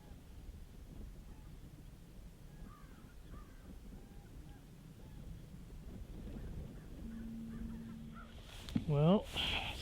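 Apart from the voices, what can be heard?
birds calling near a moose carcass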